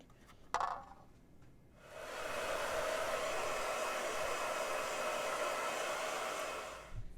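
A hair dryer blows onto a freshly painted rock, switching on after a brief knock and running as a steady, close, rushing whoosh before cutting off near the end.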